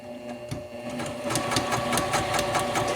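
Sewing machine stitching curved quilt block fabric, a close, steady mechanical whirr with rhythmic needle clatter that runs continuously and grows slightly louder toward the end.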